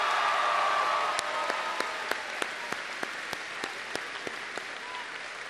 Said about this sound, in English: can everybody please give a big round of applause to Lisa Fireman for the wonderful introducti